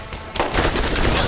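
Borderlands gunfire: a loud, rapid burst of automatic shots fills the brief moment, close and continuous.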